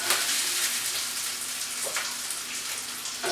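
Steak frying in a hot pan gives off a steady, close sizzle with fine crackling spits running throughout, without a break.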